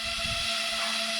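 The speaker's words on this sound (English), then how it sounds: "and the drone comes to life." A Loolinn U61 budget ready-to-fly FPV camera drone powers up, its small motors giving a steady, close, high-pitched whine with a constant tone throughout.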